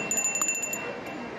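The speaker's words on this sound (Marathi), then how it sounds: "आणि घंटा आहे." A small puja bell at a Ganeshotsav exhibition stall, rung in a rapid run of bright strikes for under a second, then a faint fading ring over quiet room noise.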